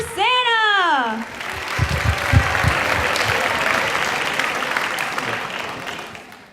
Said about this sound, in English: Can we have another round of applause for Santa?